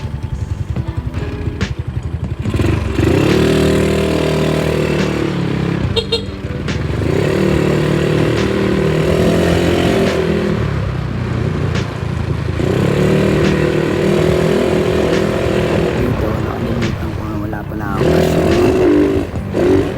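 A motorcycle engine revs repeatedly, droning up and down close by as it pulls away, with a voice speaking over it.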